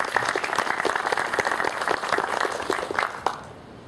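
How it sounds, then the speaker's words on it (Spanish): An audience at an economics lecture on rural public investment gives a warm round of applause, dense clapping that holds steady and then tapers off near the end. "Por favor, demos la bienvenida a nuestro expositor con un fuerte aplauso"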